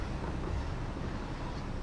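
Train held at max throttle with no braking in the game Satisfactory, a steady low rumble and rushing noise that is moderately quiet and continuous, with no speech.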